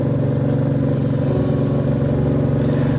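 Motorcycle ridden on a mountain road near Lamahata in the Darjeeling hills, its engine droning steadily at close range with a pulsing mid-pitched tone and slight rises, no voices over it.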